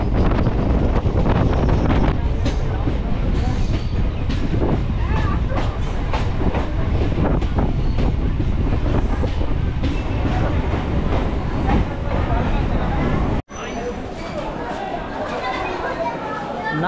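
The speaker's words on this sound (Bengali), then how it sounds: "এই আপের ট্রেন ঢোকার পরেই কিন্তু আমাদের ট্রেনটা নামখানার দিকে এগোবে" A local train rolls toward Namkhana station on a cloudy day, with loud steady rumble, wind buffeting and faint wheel clatter running throughout, briefly cut and resuming at lower level near the end.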